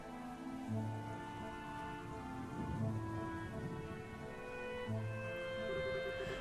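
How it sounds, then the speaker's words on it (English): Steady rain falls in the video game Trails in the Sky the 3rd, a continuous hiss with low rumbles like distant thunder, layered under soft background music tones and no voices. "You didn't have to come out here in the rain."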